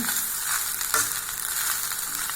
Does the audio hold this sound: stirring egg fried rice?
yes